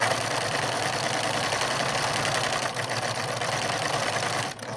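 A sewing machine stitches steadily forward at an even, continuous pace, a close mechanical whirring hum that runs without pause before easing off near the end.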